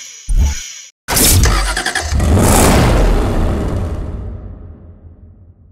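A McLaren 12C engine in Need for Speed Hot Pursuit Remastered starts with a short blip, then roars loudly and revs hard before the sound trails away to near silence, with no voices.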